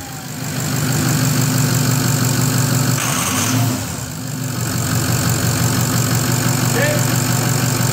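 A Ford 6.0L diesel engine fitted with a new 59mm billet-wheel turbo starts and settles into a loud, steady idle with a brief dip partway through, while a person talks over it.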